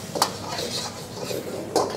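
Pieces of chicken for dragon chicken fry in oil in a pan as a cook stirs, with a soft sizzle under two sharp metallic clinks of a utensil against the pan.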